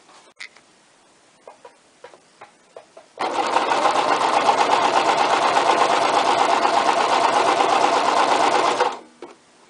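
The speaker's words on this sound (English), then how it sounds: "I can now sew the rest of this." A few soft clicks, then a sewing machine runs a straight stitch through fabric in one steady, close, rapid whir for about six seconds before stopping.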